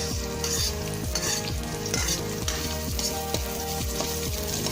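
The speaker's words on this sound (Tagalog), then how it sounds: "Igisa po natin ang bawang. Ayan. Sunod ang sibuyas." Garlic and onion sautéing in a hot pan, a steady loud sizzle and crackle with repeated stirring scrapes, up close and continuous, no voices.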